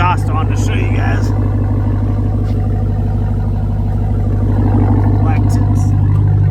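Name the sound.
TRX ATV engine running through aftermarket exhaust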